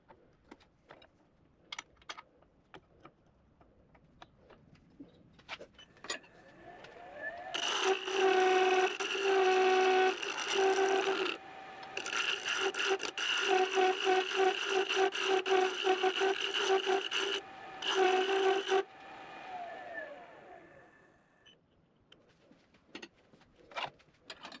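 Overhanging brass barrel of a purpleheart fountain pen trimmed on a lathe, a bright, harmonic scraping whine in two sustained passes with a short break between, preceded and followed by scattered clicks and light tapping.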